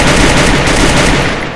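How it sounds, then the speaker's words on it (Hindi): Rapid, loud automatic gunfire from the Free Fire video game, a dense continuous burst of shots filling the moment up close with no talk. "ओह यहाँ से फायरिंग"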